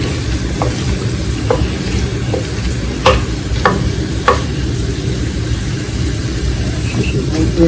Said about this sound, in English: That's all stirring around.